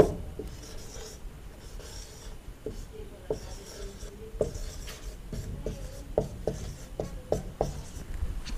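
Marker or chalk scratches and taps on a board during a Class 11 maths lesson on sets, with short uneven strokes in quick bursts, fairly close and quiet, and no talking over them.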